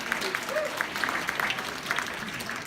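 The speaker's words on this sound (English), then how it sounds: "A little bit of applause" Audience applause at a Lunar New Year celebration fashion show, a moderate steady patter of many hands clapping at middle distance with crowd murmur and some voices mixed in.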